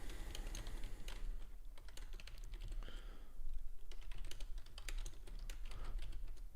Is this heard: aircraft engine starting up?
no